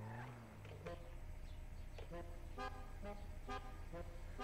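A car horn in GTA 5, a faint series of short electronic horn toots in an uneven rhythm, sounded several times over low engine hum with a trace of voice at the start.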